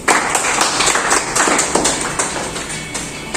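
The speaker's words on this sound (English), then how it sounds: "Please clap for Mohit." A class audience at a foreign language institute in Jaipur claps for a student, a dense, loud run of overlapping hand claps that continues steadily throughout without any talking.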